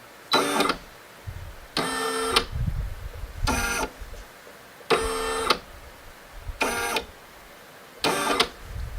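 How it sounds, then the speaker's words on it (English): A Brother PE 770 embroidery machine tracing its design area makes six bursts of whirring, buzzing stepper-motor movement separated by short pauses, close and loud, with a faint low rumble between the bursts. "I'm hitting the button to make the machine move everywhere that this thing will thread"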